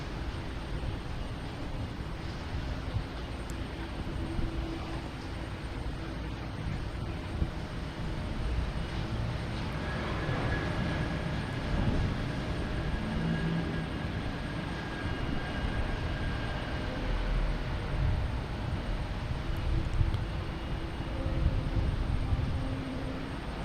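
A UPS cargo plane arriving at Boston Logan Airport, its engine noise a broad, fairly distant rumble and whine that builds gradually and holds steady over the whole stretch, with no voices.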